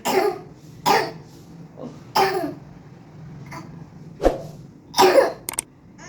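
Several separate coughs and throat-clearing bursts from someone with a sore throat, close to the microphone, spaced irregularly over a quiet low hum, with no talking.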